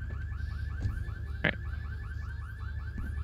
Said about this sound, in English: It's the sound of the sirens.